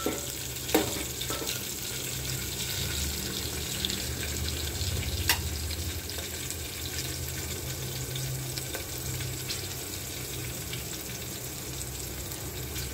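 Green chillies frying in a pan, a steady broadband sizzle with occasional stirring clinks and scrapes, close and continuous with no talking.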